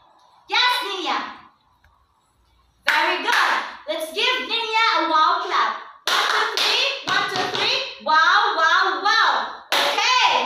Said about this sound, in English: Let's give Ninya a wow clap.